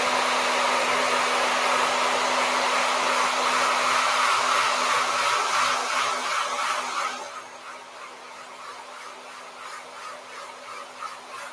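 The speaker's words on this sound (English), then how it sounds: "I'm gonna go back in with my Pro Ionic dryer and deep bowl diffuser, and I'm just going to heat this up to set the product" A Pro Ionic hair dryer fitted with a deep bowl diffuser blows a steady, loud whooshing hiss while drying curly hair, then drops to a softer setting partway through, with no talking.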